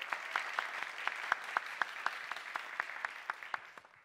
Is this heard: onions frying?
no